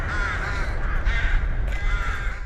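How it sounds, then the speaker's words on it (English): Crows caw above the war-destroyed city of Borodyanka, Ukraine: several hoarse caws repeat at a moderate distance over a low, rumbling wind. "The crows caw above this city of Borodyanka."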